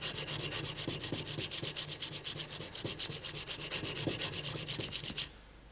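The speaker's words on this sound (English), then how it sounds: "Piece of sandpaper, put the face of the hammer on like so." Sandpaper scrubs lacquer off a steel hammer face in quick, regular back-and-forth strokes, dry and raspy, close by and continuous for about five seconds before stopping.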